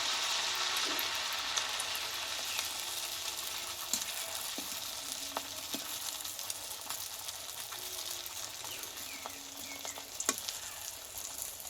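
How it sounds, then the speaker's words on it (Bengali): Steady crackling sizzle of potato and rice-flour snacks frying in hot oil, with occasional clinks and stirring sounds throughout; no voices. "এবার পরপর টিফিনগুলো ভেজে নেবো আমি"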